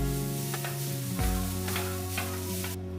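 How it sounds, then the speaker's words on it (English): A chilla, a gram flour pancake, toasts on a hot pan with a steady sizzle. A held tonal hum runs underneath, and a few faint scrapes or taps come through near the start and middle. "Toast the chilla well on both the sides"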